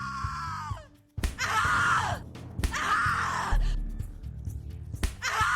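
Loud, anguished screaming in the horror video game The Cat Lady, several drawn-out cries and groans broken by short gasps, close and intense.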